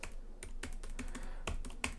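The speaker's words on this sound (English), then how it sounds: "different type of typing sensation versus my Macs" Keys clack on a Dell XPS 15 9560 laptop keyboard, about a dozen crisp, close taps in an uneven typing rhythm, with no talking over them.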